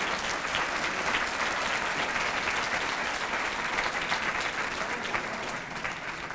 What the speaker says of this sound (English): Let's give every one of our sponsors a round of applause